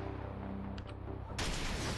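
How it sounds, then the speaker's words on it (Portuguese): A rifle shot fires in the Pure Sniper video game during a city shooting mission: a loud, sudden broadband blast about two-thirds of the way through that sustains into a dense rumble, with no talk. "Foi um tiro difícil, mas você fez parecer fácil."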